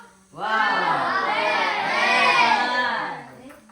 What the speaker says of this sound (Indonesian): Kita beri aplaus untuk kelompok berapa? 1. Kita bilang wow.